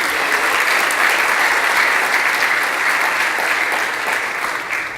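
An audience at an event gives Denise and her team a big round of applause, dense sustained clapping that fills the room, loud and close, then tapers slightly at the end.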